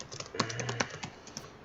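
Quick keystrokes on a computer keyboard while renaming items, a burst of close, light clicks in an irregular rhythm followed by a few sparser taps.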